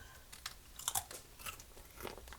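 Close, crisp crunching and chewing of crunchy homemade peanut butter granola, a run of irregular bites filling a couple of seconds with no talk.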